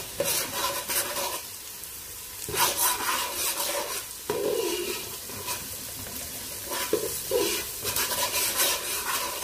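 Onion, ginger and garlic sautéing in a pan for arroz caldo, a loud steady sizzle broken by repeated scraping stirs of a spatula, close and without talk.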